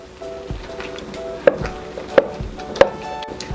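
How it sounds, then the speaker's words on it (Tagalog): Cassava being stirred and mashed in a cooking pan for cassava delight, with three sharp utensil knocks spaced under a second apart over a soft, steady background hiss. "Halo lang po tayo ng halo habang niluluto natin to"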